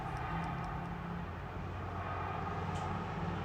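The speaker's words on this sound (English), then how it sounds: "The second sample is a sound sample of cars driving over cool pavement in the city of Phoenix." Cars drive over cool pavement in Phoenix, a steady broadband tire-and-road roar with low engine rumble, continuous and fairly close.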